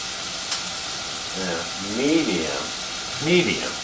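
Bell pepper and vegetables for a vegan jambalaya cook in a pan over medium heat, giving a steady soft sizzle and hiss with occasional stirring, while someone talks over it.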